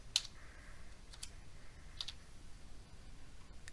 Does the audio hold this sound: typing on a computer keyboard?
yes